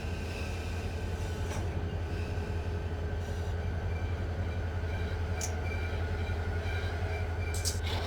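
A freight train of autorack cars rolls past in the Run8 train simulator, a steady low rumble with faint wheel clatter and occasional brief high squeals, continuous and fairly close.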